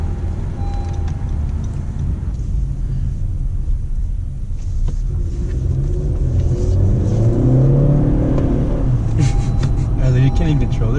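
A turbocharged 2016 Honda Civic accelerating from inside the cabin, a steady engine drone and road rumble rising in strength and pitch as it pulls, with people talking over it.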